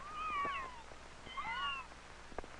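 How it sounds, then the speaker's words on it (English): Mother cat with a new litter of kittens meowing, two drawn-out wavering calls close by, separated by a short pause, with faint background noise. "George's cat, Gladys, has a new litter of kittens."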